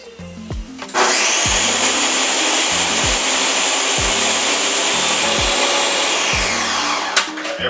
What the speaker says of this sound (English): That's not blending down too good, so I'm gonna just add more liquid.